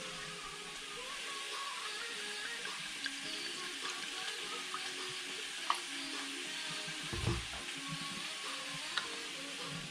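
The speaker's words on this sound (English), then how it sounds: "So we've got our cup of vinegar ready. This is sizzling away here." Pork adobo sizzling in a pan, a steady hiss of frying with faint scrapes and a brief stir or pour near the end, close and alone without talk.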